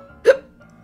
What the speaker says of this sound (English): Because she's got the hiccups,